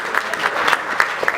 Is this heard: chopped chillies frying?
no